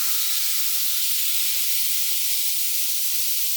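An airbrush sprays paint while sputtering out trapped water, giving a steady, bright hiss that stays even and close throughout without pauses.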